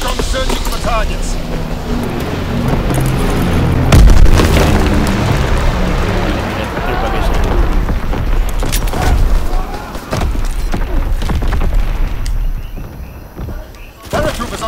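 Artillery barrage in Call of Duty WWII, heavy booming explosions rumbling one after another under dense battlefield noise, with a particularly loud blast partway through and radio-style voices talking over the din.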